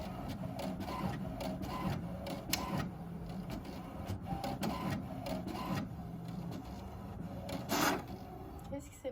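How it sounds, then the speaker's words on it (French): Home inkjet-style printer feeding and printing a page, with repeated mechanical whirs, clicks and carriage shuttling at a quiet, close level, and a brief louder grinding near the end. "je vais imprimer ça"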